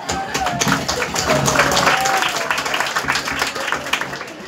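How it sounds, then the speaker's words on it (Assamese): An audience at a Teachers' Day school play claps in a sustained burst of applause that builds, peaks in the middle and tapers off, with a few voices under it. "চবেই হাত তালি দে ইয়াৰ কাৰণে।"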